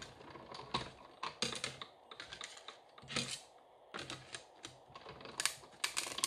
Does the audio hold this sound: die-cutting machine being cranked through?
yes